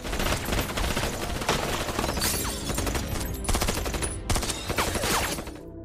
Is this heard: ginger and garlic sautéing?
no